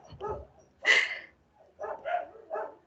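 Several dogs bark in short bursts a little way off, a few sharp yaps and woofs with quiet gaps between them.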